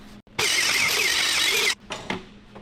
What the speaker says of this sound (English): I'm going to hit it with a wire brush a little bit.